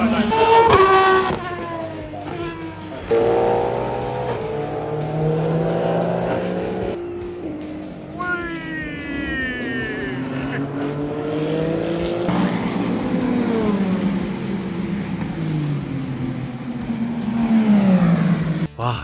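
Endurance race cars at the WEC 6 Hours of Fuji scream past trackside, one after another. The loud engine roar rises and falls in pitch with each passing car and never lets up.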